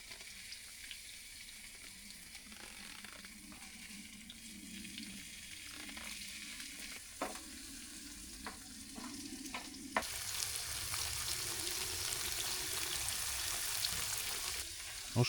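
Steak sizzles in a pan on a wood stove during a winter night in the forest, a steady close crackle with occasional clinks and stirring, growing louder and brighter toward the end.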